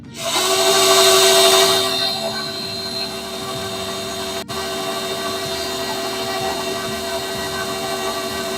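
An electric stand mixer whirs steadily through apple cake batter as dry ingredients are added, a loud continuous motor hum with a brief dip midway and no talking.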